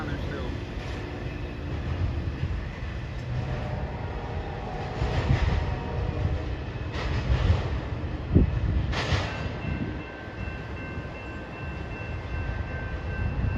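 A short intermodal freight train rolls past a grade crossing, a steady broad rumble with rail clatter and a few squeals and clanks, loud and continuous throughout.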